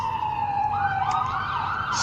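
A distant emergency vehicle siren passes through a neighborhood, its steady wailing tone rising and falling alone with no voices.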